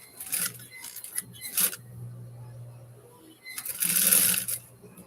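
A sewing machine stitching a leather purse at a 5/8 seam, running in a few loud close bursts with a humming motor in between, separated by quiet pauses.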